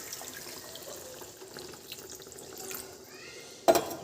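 Water is poured little by little into a pan of mushroom curry whose spices have been fried until the oil separates, a soft running splash with light sizzling, ending in a brief louder clatter.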